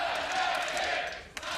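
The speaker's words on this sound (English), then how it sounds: "The crowd is amped. There are a lot of Fnatic fans." Arena crowd at a League of Legends esports match between Fnatic and G2 cheers steadily, a loud wash of voices with a brief sharp burst near the end.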